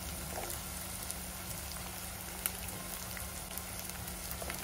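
Peas and carrots sizzle softly in a pan for sevai upma, a faint, even hiss of frying with a few tiny pops and crackles, steady and close, with no voices.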